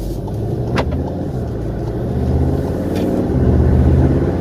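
A 2014 Volkswagen Golf 7 R driven on the road, a steady engine drone from inside the cabin with small clicks, building slightly as it shifts up, no talk.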